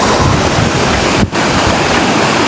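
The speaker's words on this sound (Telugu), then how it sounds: "సో వాటి నుంచి పడిన వాటర్ నేరుగా కిందికి అయితే వెళ్ళిపోతాయి." Jilledu Bugga waterfall near Irala in Chittoor district, pouring down with a loud, dense, unbroken roar of falling water close by, with a brief dip partway through.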